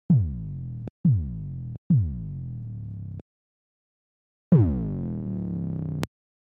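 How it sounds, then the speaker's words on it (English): Three short harsh, buzzy synth notes in a row, a pause, then one longer gritty note, all overdriven from clipping on the master channel. "It's audibly clipping, so it's adding distortion into it."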